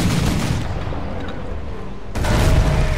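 A ship's cannon broadside in Risen 3, heavy rumbling gunfire that swells into a louder booming volley near the end over continuous low sea and battle noise.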